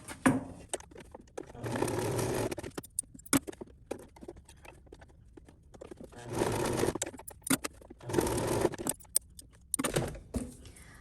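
A sewing machine stitches lines across a craft fabric marble maze, running in several short bursts of rapid whirring separated by pauses with small clicks and handling noises.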